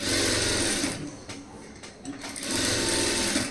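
A sewing machine stitches around the lining cloth of a three-dot saree blouse, its steady whirring run easing off briefly midway before picking back up at full speed.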